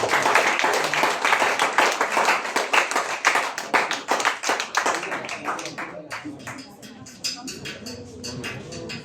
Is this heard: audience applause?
yes